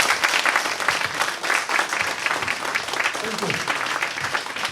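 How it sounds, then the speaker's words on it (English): Audience applause at a community family event in El Monte, dense steady clapping from a crowd filling the clip, with a voice speaking briefly over it. "Give them applause one more time"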